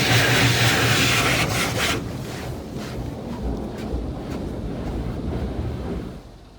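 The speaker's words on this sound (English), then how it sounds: "Now, we should be getting the tri-foam. It's going to come out of the side." An automatic Mark VII ChoiceWash XT at an Esso/Circle K spraying tri-foam from side nozzles onto a car: a loud, steady broadband hiss of spray that eases slightly partway through and fades near the end, with no talking.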